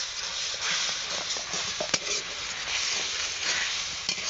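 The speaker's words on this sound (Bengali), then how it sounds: "এবার আমি মশলাটাকে ভালোভাবে কষিয়ে নেব।" A spice paste of ground coriander and cumin fries in a pan for a thin rohu fish curry, giving a steady close hiss and sizzle with occasional scrapes of stirring and no voices.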